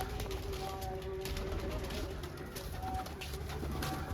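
Soft pigeon coos sound a few times against a steady background hiss, with low voices faintly present.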